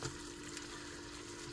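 Liquid poured steadily onto minced meat in a pan, a soft continuous trickling wash with a faint steady tone beneath, close and alone without talk.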